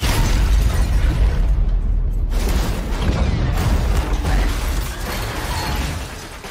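A car explosion from the film Black Widow: a loud, dense rumbling blast with crackling debris that fills the whole stretch, dipping briefly before surging again and slowly tapering.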